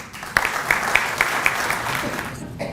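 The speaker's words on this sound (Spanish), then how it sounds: "El aplauso para él." An audience applauds Alfredo Barnechea García at a lecture event at USIL, with steady dense clapping and a few sharper claps standing out, fading toward the end.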